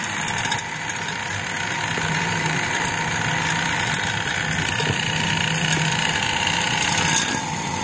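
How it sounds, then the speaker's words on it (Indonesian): A vacuum pump runs steadily while evacuating an LG air conditioner during a condenser replacement, a constant close mechanical drone with a faint motor hum and no change in level or talk. "Nyalakan alat vakum kita."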